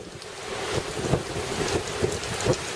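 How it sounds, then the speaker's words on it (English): Hurricane Irma's wind-driven rain blows off a house roof on St. Croix in September 2017, a dense, steady roar of rain and gusting wind with surging swells and no voices. "You can see the rain coming off the roof, and it's starting to blow a little more horizontal."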